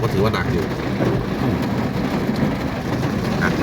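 Heavy rain pours down in a dense, unbroken roar on Route 226 in Sisaket, Thailand, with low rumbles of thunder rolling underneath, loud and close.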